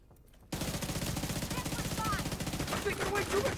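Rapid video-game gunfire starts abruptly after a short quiet lead-in. It becomes a loud, continuous burst of shots with a steady rhythm, and chirpy game effects sound over it toward the end.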